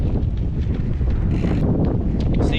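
Gusty wind buffets the microphone with a low, rumbling roar, steady and close throughout, with no voices.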